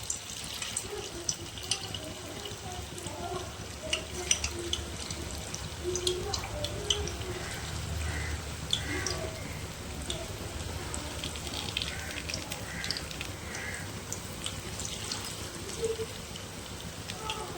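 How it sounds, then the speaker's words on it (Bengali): Banana kebabs fry in white cooking oil over a low flame with a constant sizzle and dense crackling, small pops scattered throughout at an even level. "এবার এগুলো আমি তেলের মধ্যে ভেজে নেব"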